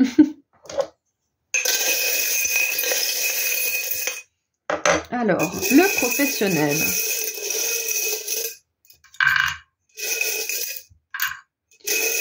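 Small metal divination charms clink, rattle and drop onto a surface in several bursts as they are drawn, with bright jingling between silences and someone speaking briefly in French.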